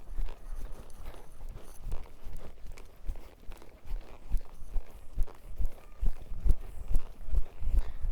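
A horse's hooves strike the ground at a steady walking pace during a training session, the dull thuds fairly close and rhythmic over a soft background, with no voices.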